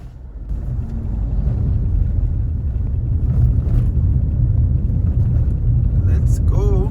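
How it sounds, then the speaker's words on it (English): Steady road traffic rumble from cars moving along a street in Jamaica on a weekend, a continuous loud low drone of engines and tyres that fills the whole span, with a brief higher tone near the end. "but there's some traffic here."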